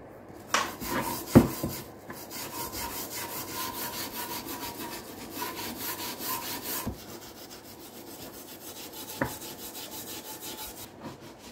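Scrubbing surface rust off a scooter part, a continuous rasping, rhythmic back-and-forth rubbing with a few sharp knocks and clanks, close and alone without speech.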